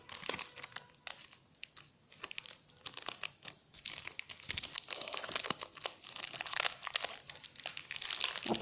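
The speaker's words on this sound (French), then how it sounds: "on va commencer par ouvrir le pot" Crinkling and tearing of Fimo polymer clay packaging as it is opened by hand, a close, irregular run of plastic crackles and small rips that continues throughout without speech.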